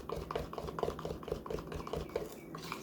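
Keto fat bomb mixture being stirred in a bowl, a steady run of soft, close clinks and scrapes from a spoon repeating every fraction of a second, with no talk.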